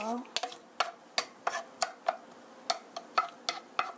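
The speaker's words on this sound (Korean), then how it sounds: "마늘의 향이 기름에 우러나도록 이렇게 볶아주세요." Sliced garlic stir-fried in olive oil for zucchini, with a spatula scraping and tapping the pan in about a dozen sharp, evenly spaced strokes close by, over a faint background sizzle.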